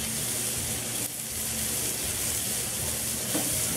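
A steak sizzles steadily on a hot off-grid wood stove, a loud, continuous frying hiss close to the pan with no voices over it.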